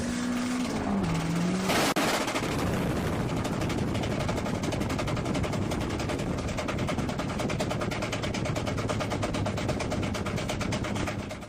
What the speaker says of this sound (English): You'll soon see why it made such a big bang. The tyre let go.